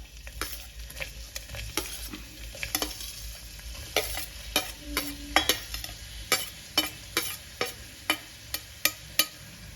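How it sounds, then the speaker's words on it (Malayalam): Onion and garlic sauté in hot coconut oil under a low, steady sizzle, punctuated by frequent crisp ticks and scrapes of a spoon stirring the pan, growing more rhythmic toward the end. "ഈ സവാളയൊക്കെ ഒന്ന് വാടി വരുന്നവരെ ഒന്ന് വഴറ്റാം"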